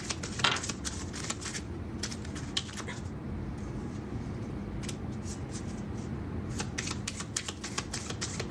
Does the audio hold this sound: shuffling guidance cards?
yes